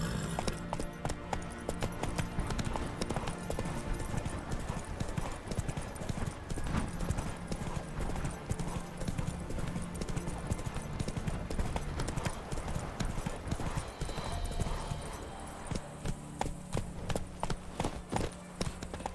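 A horse in The Witcher 3 gallops steadily, hoofbeats pounding in a fast continuous rhythm, loud and close, easing off near the end.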